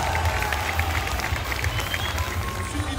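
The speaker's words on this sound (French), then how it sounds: "Applaudissements également pour Christine à leur côté." Audience applause and cheering at a chocolate fair in Paris, a dense, steady wash of clapping with crowd noise throughout, loud and close, with a low rhythmic thump underneath.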